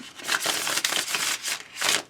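Stiff tarot cards riffle and slap together in several quick bursts of shuffling, close and crisp, with brief pauses between the passes and no talking.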